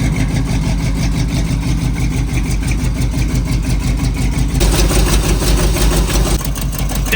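Chevy square body truck with headers and a cam, idling with an exhaust leak: a loud, close, steady lumpy rumble that grows a bit louder midway, with no voices.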